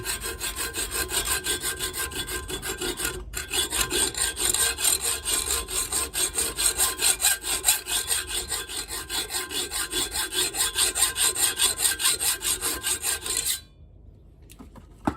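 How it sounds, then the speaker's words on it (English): A hacksaw blade cuts a screwdriver slot into a screw head on a Ninja ZX6R motorcycle repair, steady close rasping back-and-forth strokes running continuously for about thirteen seconds before stopping. "thickness of the hacksaw blade doesn't make a big enough groove for the screwdriver tip to get in there. So lean it as I'm cutting."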